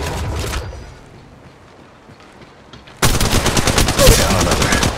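Automatic weapon fire rattles loud and continuous through a video game firefight. A brief burst at the start is followed by a quieter lull, then sustained rapid shooting resumes for the last couple of seconds.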